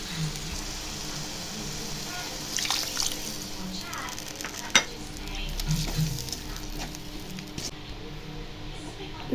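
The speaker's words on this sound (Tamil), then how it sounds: "இப்போ இதில் கொஞ்சமாக தண்ணியால் சேர்த்துக்கலாம்." Water poured into adamant creeper curry and stirred in a pan, a steady sizzling bubble with scraping stirs, a voice talking over the cooking throughout.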